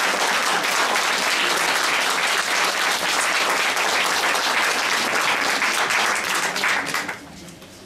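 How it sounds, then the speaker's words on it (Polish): Audience applause for the hosts at a foundation event in a Kraków cellar venue, loud dense clapping sustained for about seven seconds before cutting off sharply. "Bardzo proszę uprzejmie o oklaski dla gospodarzy"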